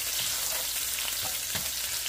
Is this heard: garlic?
yes